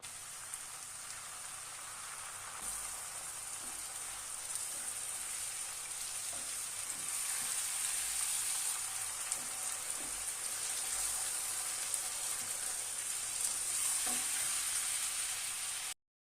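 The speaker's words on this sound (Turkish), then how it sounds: "doğramış olduğumuz 3 tane domatesi tenceremize ekliyoruz" A continuous soft sizzling hiss of chopped tomatoes frying in a pot, with occasional light stirring clicks, steady and close.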